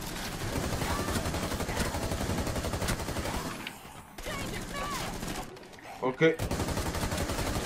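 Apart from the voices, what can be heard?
gunfire in a video game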